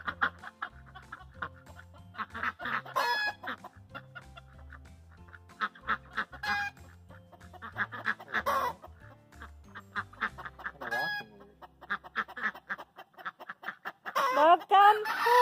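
Several Pekin ducks quack in short, nasal bursts, some overlapping, close by with quiet pauses between calls.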